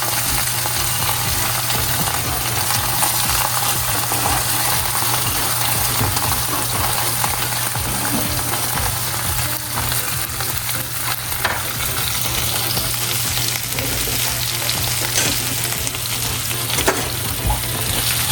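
Chillies, tomato, onion, cashews and curry leaves fry in hot oil for a Hyderabadi-style paneer biryani, a dense continuous sizzle with scattered crackles and stirring clinks, close and loud without any talk.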